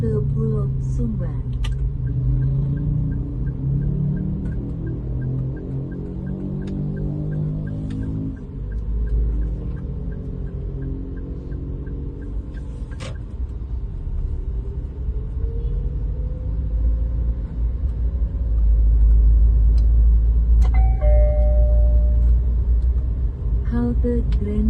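A Trans Padang city bus rumbles along with a low, steady engine drone and road noise, its hum rising toward the end, while an automated voice announces stops over it.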